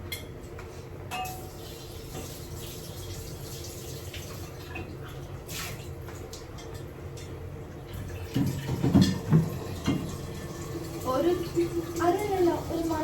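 Water is poured into a pot in a home kitchen while cooking Kerala-style chicken biryani, with splashing, dripping and a few clinks of metal and glass, close and fairly quiet, with people talking in between.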